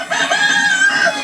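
A rooster crows loud and close in one sustained, strained call that rises and holds briefly before trailing off.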